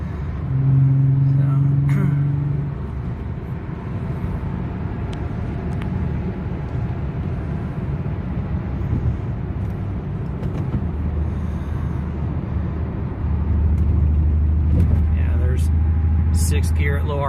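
A car engine shudders and rumbles at low RPM in sixth gear with a misfire, a rough, uneven drone heard from inside the cabin as someone talks over it.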